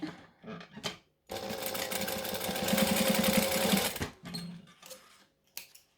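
A sewing machine stitching fabric for a sewing tutorial runs in one close, steady burst of about three seconds, with short handling sounds and faint movement before and after.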